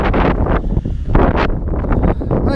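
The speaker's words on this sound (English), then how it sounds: "there's you some wind to listen to." Strong winter wind blowing outdoors during a snowstorm that drifts snow across a driveway, loud gusty roaring that rises and falls in surges close to the microphone.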